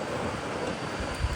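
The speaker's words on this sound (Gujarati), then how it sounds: "અત્યારે બહુ પવન છે" Strong wind by a river buffets the microphone in a steady low rumbling roar with gusty swells, loud and close, no talking.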